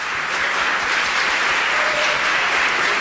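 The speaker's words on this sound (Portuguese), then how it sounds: "Pode aplaudir." A church congregation claps steadily and loudly throughout, a dense, continuous wash of many hands with no voices standing out.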